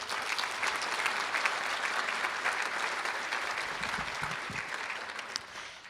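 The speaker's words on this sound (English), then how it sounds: "so how about another round of applause for them?" A large crowd at a law school commencement ceremony claps in a sustained, even round of applause, heard alone without any talk.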